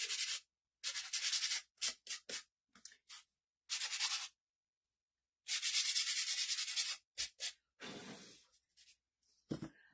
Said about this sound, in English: I'm sanding it